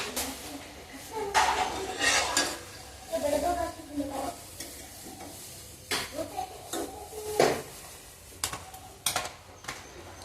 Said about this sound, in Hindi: तो सबसे पहला इसे मैं तल लेती हूँ।